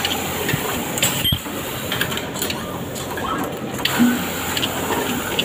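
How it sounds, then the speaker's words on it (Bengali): A wide-range elastic cutting machine runs on a garment factory floor, giving a steady mechanical whir with a sharp clack near the start and faint intermittent clicks, amid general factory hum. "ওয়াইড রেঞ্জের এলাস্টিক কাটার মেশিন।"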